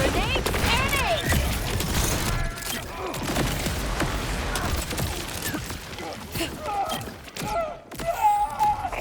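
Borderlands combat with grenade explosions and rapid gunfire, dense layered blasts and shots running throughout amid game effects, with a person talking over it.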